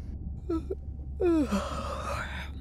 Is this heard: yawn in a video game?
yes